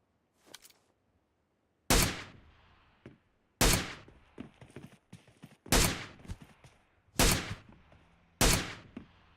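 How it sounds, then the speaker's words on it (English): Unsilenced shots from a new gun in PUBG Mobile, six loud sharp reports spaced at roughly even intervals, each with a short decaying tail, a few softer clicks and steps between. "That's what the gun sounds like without the silencer."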